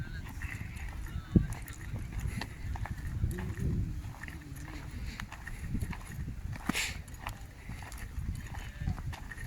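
Horses walking at a ranch in Bukidnon, with faint, irregular hoof clops over wind and outdoor rumble, a few sharper knocks, and people talking nearby.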